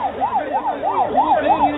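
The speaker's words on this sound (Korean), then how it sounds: "늦은 저녁 소방차가 주변 차량을 통제하며 다급하게 달립니다" Fire engine siren wailing in a rapid, regular up-and-down yelp, about five cycles in under two seconds, loud and close with no talk.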